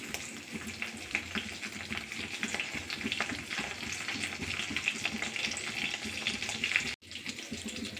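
Crushed garlic and ginger fry in hot oil for tomato rasam, giving a steady, fairly quiet crackling sizzle with small stirring bursts and a brief cut near the end.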